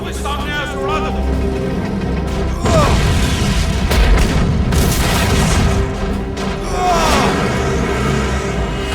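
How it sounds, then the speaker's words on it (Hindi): Cartoon weapon fire and explosions from an animated action series: booming blasts and rapid bursts of fire over a dense, loud background, with voices speaking among them. "फायर करते रहो, जो भी सामने आए उसे उड़ा दो।"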